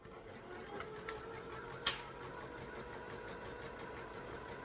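A sewing machine stitches fabric with the presser foot lowered, giving a quiet, steady mechanical whir with a faint regular pulse and one brief sharp click partway through.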